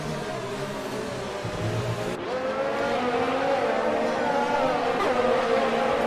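F1 race cars in F1 2019 at the Japanese GP running four wide down the straight, a continuous high engine whine with shifting pitch and a gear change, loud and steady.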